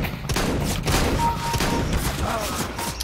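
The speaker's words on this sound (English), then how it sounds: "Fucking shotguns, I hate them." Shotgun blasts in CS:GO ring out in a rapid volley, loud sharp bangs crowding together over roughly three seconds with mechanical clatter between shots.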